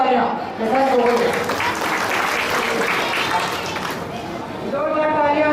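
Audience applause at a business seminar in Kamrej, Surat, a dense burst of clapping that swells loud and holds, with speech from a host over parts of it.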